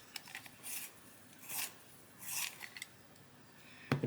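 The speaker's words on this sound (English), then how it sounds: "I'm just going to sharpen" A colored pencil from a Cobra set is sharpened in quiet, scratchy bursts of grinding, three or four short twists followed by a small clack.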